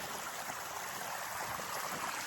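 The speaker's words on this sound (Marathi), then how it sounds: "बघितलं पाणी कसं खळा खळा खळा खळा" Water flows and gurgles across a road, a steady close rush with a bright, bubbling texture that runs unbroken and alone.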